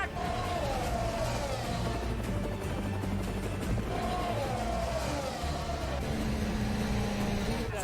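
Formula 1 race cars at Spa, engines whining and droning at speed with rising and falling pitch as cars pass, heard under a commentator's voice over a constant crowd and broadcast background.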